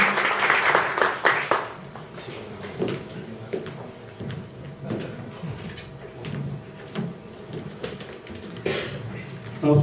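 At a Korean lecture event, audience clapping greets a guest speaker, a burst of hands lasting about a second and a half that quickly dies away into quiet room shuffles, footsteps and handling noises.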